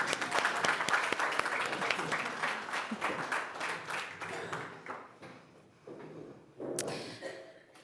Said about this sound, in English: Let's clap for Joyce.